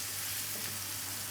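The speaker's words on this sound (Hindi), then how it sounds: "प्याज को हमने 3 से 4 मिनट तक फ्राई करना है।" Onions frying in a pan: a steady, dense sizzle, even and unbroken throughout, close and moderately quiet with a faint low hum beneath.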